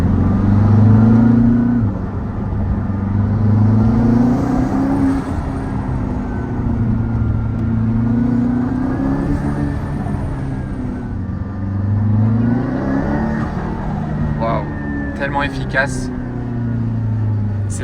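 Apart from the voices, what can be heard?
Aston Martin Valhalla hypercar accelerating, turbos charging and discharging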